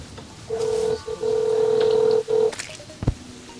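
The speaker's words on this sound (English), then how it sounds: "Calling Devin. Mobile" Phone dialing a mobile call with DTMF tones, a steady run of clear beeping tones with short gaps, followed by a brief click near the end, heard close and alone.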